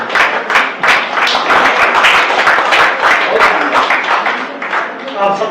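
An audience claps at a Hindi poetry recital, a dense patter of hand claps, fairly close and loud, running steadily across several seconds with a voice rising briefly near the end.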